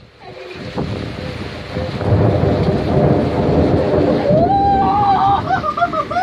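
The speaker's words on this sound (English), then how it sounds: "The water is splashing everywhere." Loud thunderstorm in Van Buren, Arkansas, with heavy rain and water splashing and surging, a steady roar with gusty wind buffeting the microphone throughout.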